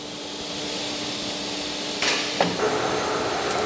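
Steady mechanical hum of a large CNC nesting machine with automatic panel loading and unloading, drilling and cutting panels, with a hiss and a few clunks as it starts moving partway through.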